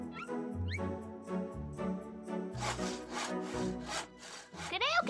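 A handsaw sawing wood in a cartoon scene, rhythmic back-and-forth rasping strokes, close and steady, with playful musical and squeaky effects around them.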